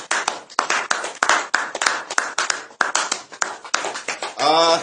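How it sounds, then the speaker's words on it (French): A church congregation claps in a fast, loud, rhythmic beat of repeated hand claps, with a brief voice rising near the end. "Acclamons très fort."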